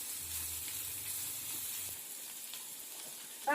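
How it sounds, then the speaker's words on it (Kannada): Cumin seeds fry in hot oil for jeera sambar, a faint steady sizzle and hiss with a light clink near the end. "ಒಂದು ಅರ್ಧ ಸ್ಪೂನಷ್ಟು ಜೀರಿಗೆ ಹಾಕೊಳ್ಳೋಣ."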